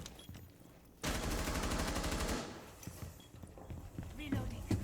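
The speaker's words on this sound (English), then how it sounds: "Changing mags." Weapon magazine being swapped during a Rainbow Six Siege match, with a loud burst of rapid metallic clatter and gunfire-like rattling for over a second, then quieter clicks and handling noises as a voice talks.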